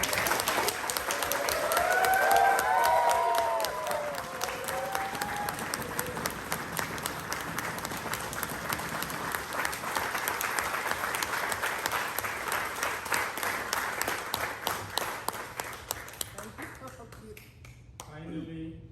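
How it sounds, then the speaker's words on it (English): Guests at a pre-wedding dinner applaud for Sadhana, a steady wash of many hands clapping that carries on for most of the stretch before tapering off, with some voices mixed underneath. "Let's give her a huge applause"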